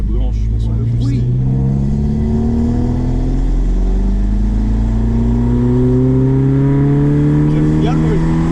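Volvo 945 engine revving up loud and close, its pitch climbing steadily as it accelerates through most of the stretch.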